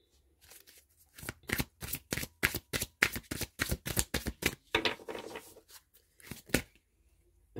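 Tarot cards are shuffled by hand in quick bursts of crisp riffling and snapping, close and moderately loud, with no talk over them.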